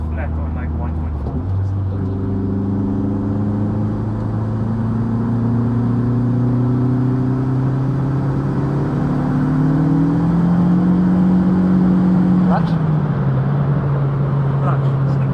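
Big-turbo 1.8T 20-valve engine in a Mk2 car, rebuilt, revving steadily under load while the clutch slips, a droning whir rising in pitch then dropping near the end, loud and continuous with voices talking over it.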